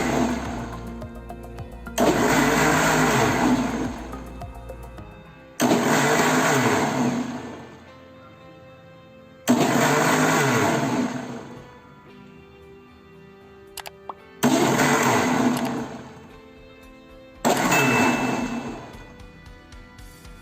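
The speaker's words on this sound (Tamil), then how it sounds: "நீங்கள் சும்மா பல்ஸ் மோடில் விட்டு விட்டு ஒரு 4-5 வாட்டி அது மாதிரி அடிச்சிங்கன்னா பட்டர் அதுவே மேலே வந்துடும்" A blender pulses milk cream into homemade butter in five loud bursts of whirring motor, each a few seconds long and separated by short quiet gaps.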